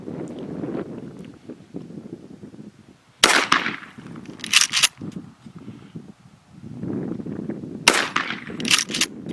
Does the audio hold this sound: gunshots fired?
yes